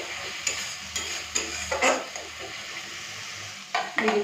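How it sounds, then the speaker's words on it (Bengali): Beaten sour yogurt being stirred into fried spice masala over a very low gas flame for a fish curry, with a soft sizzle underneath and several distinct scraping strokes of a spatula against the pan, no talking. "দিয়ে দিচ্ছি ফেটানো টক দই।"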